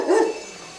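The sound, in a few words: dogs barking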